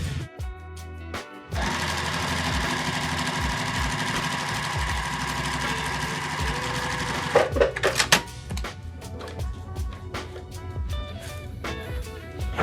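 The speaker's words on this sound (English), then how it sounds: "we're just going to sew these rows together" A sewing machine joins quilt block rows, a sustained close whirring run with rapid needle chatter, then short stop-start bursts and clicks toward the end.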